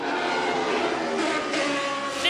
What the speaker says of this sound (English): I hear Alan Jones's engine stuttering